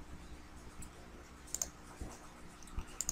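A computer mouse clicks a few times, sharp isolated clicks spaced about a second apart, close and faint over a quiet background.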